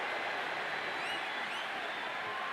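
A capacity arena crowd in the WWE 2K25 video game roars as a continuous, dense wash of cheering that holds steady throughout the short stretch, with no commentary over it.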